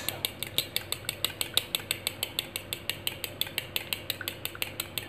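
Four egg yolks whisked briskly in a bowl, a steady fast rhythm of close metallic taps and scrapes with no talk.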